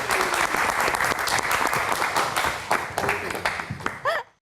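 A live television studio audience claps for a singer, a dense burst of applause that stays strong for about four seconds before cutting off abruptly, with a short whooshing sound at the very end.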